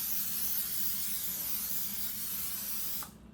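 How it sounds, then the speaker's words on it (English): A steady hiss of cooking spray from an aerosol can onto a casserole dish, close up and continuous for about three seconds, then stopping abruptly. "we're going to spray our casserole dish."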